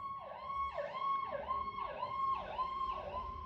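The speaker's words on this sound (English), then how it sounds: "some type of ambulance just raced past the house" An ambulance siren races past a house, its wail sweeping up and down in repeated cycles, loud and steady throughout with a low traffic rumble beneath and no talk.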